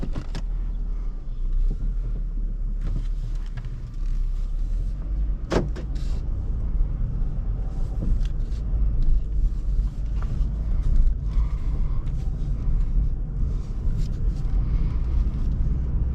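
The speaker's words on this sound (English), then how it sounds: "we're about to test drive this Taurus, so let's roll" A 2007 Ford Taurus SE drives along on a test drive, a steady low road rumble and engine hum heard from inside the cabin, with a few faint clicks and knocks and no talk.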